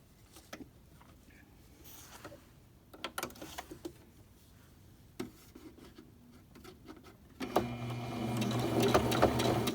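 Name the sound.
sewing machine stitching a folded fleece strip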